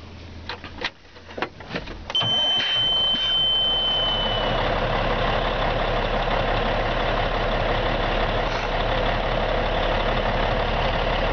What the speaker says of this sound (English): I'm going to go ahead and fire up this engine